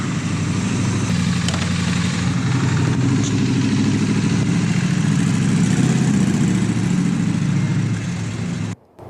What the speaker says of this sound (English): the bike's going to be able to fire up and go